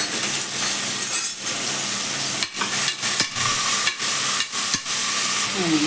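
Onions and green chillies sauté in oil in a pan, giving a loud, steady hiss of frying broken by several brief stirring scrapes, heard up close.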